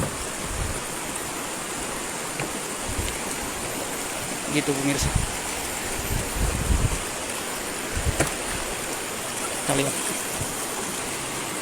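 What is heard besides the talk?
flowing river Sungai Air Bayau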